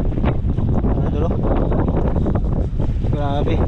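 Strong northeast monsoon wind buffets the microphone at sea aboard a small fishing boat, a steady loud rush throughout with people talking over it.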